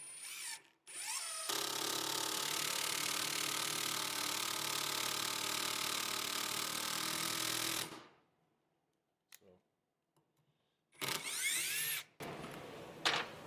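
A Metabo HPT 18V triple hammer driver drives a self-tapping screw with a loud, steady whir lasting several seconds. It then stops abruptly, and after a pause the driver gives a couple of short bursts.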